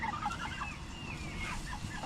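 Backyard chickens penned in a sheltered coop give a few warbling, gobble-like calls in quick succession, moderately near, over a low steady background rumble.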